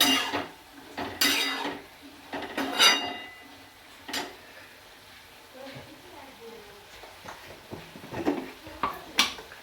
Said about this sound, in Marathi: आता ह्याला पण एकदा पण परतून घेऊया